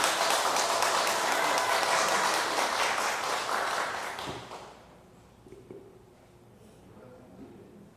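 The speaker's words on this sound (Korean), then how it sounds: "우리와 같은 박수로 맞이해 주시기 바랍니다" Warm congregational applause welcoming a priest at a parish retreat in Dogo Catholic Church, strong for about four seconds and then fading out to a quiet room with faint shuffling.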